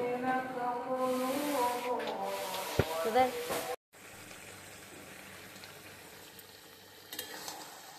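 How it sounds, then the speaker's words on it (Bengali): Spices with fried onion, ginger paste and cumin paste cook in a pan. A voice talks over the first half, then after a brief cut a steady, soft sizzling hiss carries on alone. "এখানে আমি সব মশলা দিয়ে ভালো করে কষিয়ে নিচ্ছি।"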